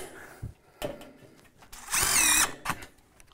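A power drill drives screws into basement joists in a short whirring burst of about half a second, close and loud, among scattered knocks and handling noises.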